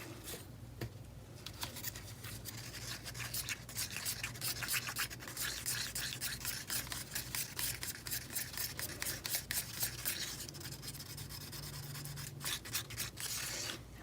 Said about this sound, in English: And I'm just mixing, mix, mix. Scrape the sides, scrape the bottom.